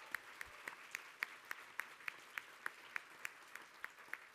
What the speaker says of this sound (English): let's give another round of applause to our Margaret